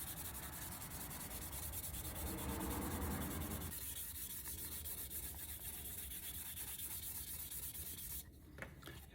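Sandpaper of 800 grit rubbed back and forth over a damaged Nissan 350z car part, a steady close scratching hiss that swells louder midway, then eases off near the end.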